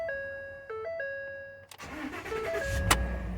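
2013 Ford F-150 started with the key, a steady chime tone shifting pitch before a brief crank and the engine catching into a rising idle, close and fairly loud.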